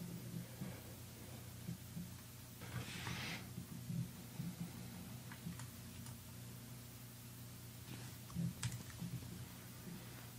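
Computer mouse clicking while modelling in Maya 3D software: faint, sparse clicks scattered over a quiet background hum, with a brief soft rustle partway through and no talk.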